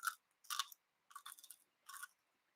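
Crisp crunchy bites close up, four separate chewing bursts spaced about half a second apart with silence between, no talking.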